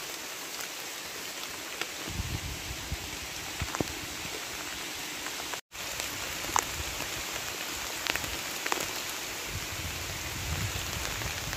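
Heavy rain pours down at night during an outdoor rat-trapping outing, a dense, steady hiss of drops on surfaces with scattered louder drips and a momentary cutout partway through.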